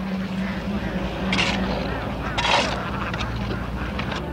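A flock of hungry ducks feeding on corn bran mixed with fish meal, honking and quacking in a dense, continuous din, with a voice talking over it.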